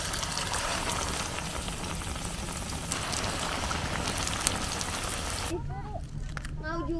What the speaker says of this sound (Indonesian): Lanjut goreng pisang.